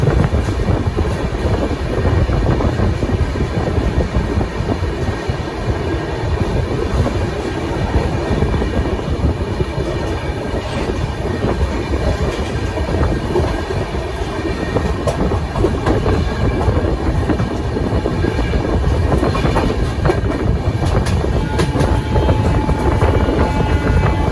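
An Ayodhya Cantt–LTT Saket superfast express train rumbles steadily along the tracks near Burhanpur station, a loud continuous roar with rattling wheel noise and wind buffeting throughout.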